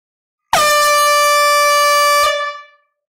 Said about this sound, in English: It's time for the air horn.